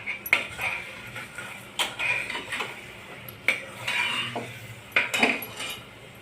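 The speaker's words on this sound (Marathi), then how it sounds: "सगळं एकत्र परतून घेणे।" Spoon scraping and clinking in a metal pot while masala khichdi ingredients with chilli and salt are stirred together, in a series of separate short knocks and scrapes at close range, with no talk.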